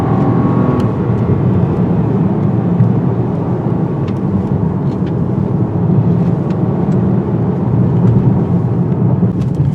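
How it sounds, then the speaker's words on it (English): A 2021 Volkswagen Atlas V6 SUV accelerates hard on a curving road, its engine a steady, loud low roar heard from inside the cabin, sustained throughout with no talk over it. "So let's put the pedal to the metal and find out."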